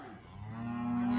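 A calf bawls for its mother during weaning on a ranch in autumn. One long, rising moo swells steadily louder and sounds close by.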